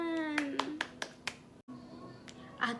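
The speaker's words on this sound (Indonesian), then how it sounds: "Kita beri tepuk tangan." A few sharp, evenly spaced hand claps during a children's Sunday school service, with a voice speaking over them and a short burst of claps near the end.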